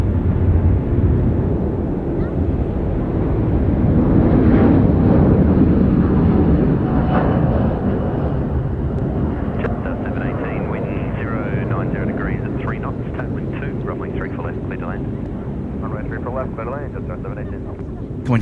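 A Cathay Pacific Boeing 747-8 in retro 80th-anniversary livery departing Sydney Airport roars at takeoff power, a loud sustained broadband rumble with wind buffeting and a person talking over it.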